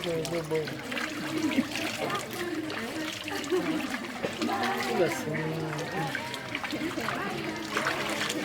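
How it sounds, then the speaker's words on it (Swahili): Feet kick and splash in water outdoors, with a continuous trickling, sloshing wash under people talking and faint background music. "Chezea maji na miguu hiyo."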